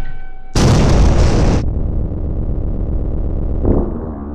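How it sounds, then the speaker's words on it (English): A loud explosion effect in a cartoon short bursts in with a broad roar, then trails into a long rumbling tail that swells again briefly near the end. "In a huge fire explosion of feces."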